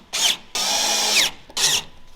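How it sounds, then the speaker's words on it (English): A Snap-on power drill driving screws at low speed whirs in three bursts, a short one, a longer sustained run, then another short one, loud and close with no talking. "We're gonna use the snap-on drill, so it's low speed."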